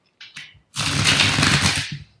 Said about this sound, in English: Keep shuffling until you're happy to stop.